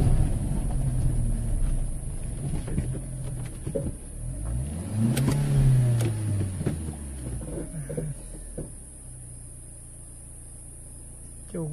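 A car engine on a rural property revs up and falls back as its wheels spin on loose gravel, a rising and falling drone with grinding, crunching noise, close and fairly loud.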